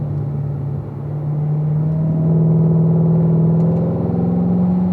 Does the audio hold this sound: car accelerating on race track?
yes